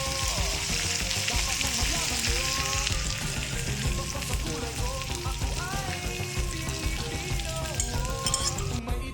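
Beaten egg poured over bitter gourd (ampalaya) frying in a pan, giving a steady, dense sizzle throughout with faint clinks of a utensil, close and fairly loud.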